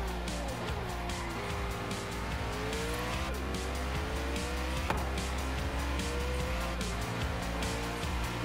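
A car in the racing video game Forza Horizon 3 drives hard, its engine droning and rising in pitch while tires squeal. The sound is loud and continuous throughout, with no one speaking.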